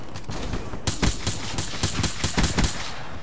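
Loud, steady bursts of automatic weapon fire in Call of Duty: Black Ops III, evenly spaced sharp shots repeating across the moment after a brief lead-in, close and continuous with no talking.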